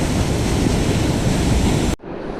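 The raging, turbulent Pit River, swollen with snowmelt, roars as a loud, dense, constant rush close by, then cuts off abruptly into quieter background.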